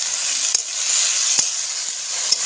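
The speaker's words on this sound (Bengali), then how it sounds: "তো আমি এখানে এখন আলু ভাজছি উনুনে।" Potatoes sizzle steadily in oil over a wood-fired clay stove, a continuous bright frying hiss with a few soft stirring clicks and pops, close and alone.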